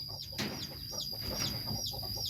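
Pradu Hang Dam Chiang Mai chickens, a developed native Thai breed, cluck and chirp in repeated short calls at moderate distance over a busy farmyard background.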